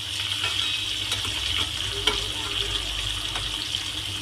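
Stuffed brinjal (gutti vankaya) for a masala curry frying in a pan, giving a steady, close sizzle with light stirring clatter throughout and no talking.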